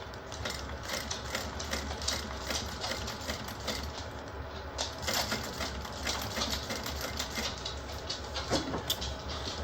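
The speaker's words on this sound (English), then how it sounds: "Of course, it wants to go a little wiggly while I'm doing contrast stitching." A sewing machine runs steadily while doing contrast stitching, a fast continuous mechanical whirring with rapid needle clatter, close and fairly quiet, without talking.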